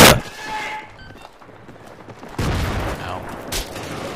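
Gunfire in the Battlefield 3 video game striking the player: a loud burst at the start, then a second heavy volley and another sharp burst near the end, with no talking in between.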